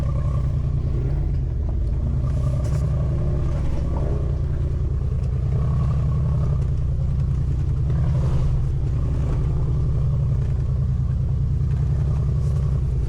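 A car labors over a muddy track along a dried-up riverbed in Auvergne, its engine a steady, heavy low rumble that stays loud and close throughout, with no talking.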